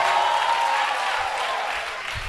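Applause swells from a church congregation acclaiming Jesus Christ, a dense wash of clapping that stays loud for a couple of seconds and then thins slightly, with no clear talk over it.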